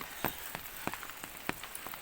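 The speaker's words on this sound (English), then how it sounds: "I don't want to get inside the rain." Rain patters on the fabric outside a tent on a farm, soft irregular taps and drips over a quiet steady hiss, with a few sharper drops standing out close by.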